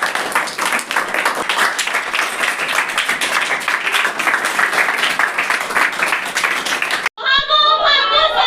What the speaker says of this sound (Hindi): हमारे जो इको क्लब के बच्चे हैं उनके लिए जोरदार ताली बजाएं